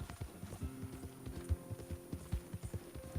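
Steady clip-clop of horse hooves trotting in an even rhythm over a low mechanical hum, soft and with no voices, from the video game Red Dead Redemption 2.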